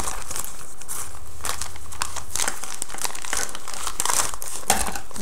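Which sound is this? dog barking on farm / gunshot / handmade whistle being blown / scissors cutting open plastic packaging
scissors cutting open plastic packaging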